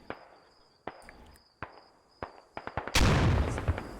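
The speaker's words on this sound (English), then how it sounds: "Grenades falling pretty close here." Grenades going off in the tactical shooter Squad: a run of sharp, separate cracks and thuds at uneven intervals, then a loud, close blast with a lingering roar at the end.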